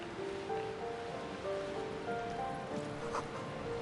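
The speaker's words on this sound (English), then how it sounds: "Waves crashing in the darkness." Waves crashing in darkness, a steady distant wash of surf with a low droning tone running underneath, no voices.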